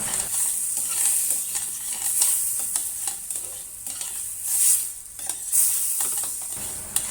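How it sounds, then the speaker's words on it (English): Chopped tomato hitting a hot pan of lamb curry base, sizzling and frying loudly with bursts of hissing as it is stirred, occasional scraping of the spoon against the pan. "Add the chopped tomato to deglaze the pan."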